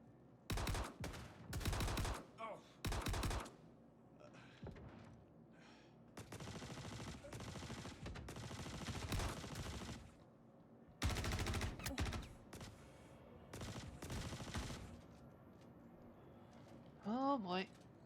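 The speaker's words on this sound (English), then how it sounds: "What's with the gunfire?" Rapid bursts of gunfire rattle in several volleys separated by short pauses in the game Star Citizen, with a person talking between and over the shots.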